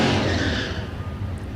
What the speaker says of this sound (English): Here's that stick shift Corvette.